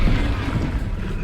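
A Bombarda blasting spell exploding in Hogwarts Legacy, a short, dense, close burst of booming, crackling noise that stays loud and heavy throughout.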